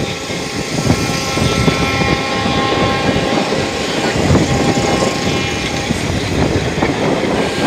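Train 15767 from Siliguri to Alipurduar rolls through the night at speed, a loud, steady roar of wheels and carriages with rhythmic rattling clacks throughout.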